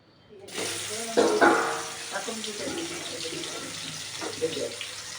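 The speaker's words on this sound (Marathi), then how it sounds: "आता आपण इथं आपली जी काही भेंडी होती ते आपण इथं सोडून घेऊ." Okra (bhindi) slides into hot oil in a pan for spicy masala bhindi, bursting into a loud, close sizzle that settles into steady bubbling hiss, with a voice talking over it.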